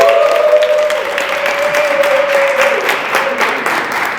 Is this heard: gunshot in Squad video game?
no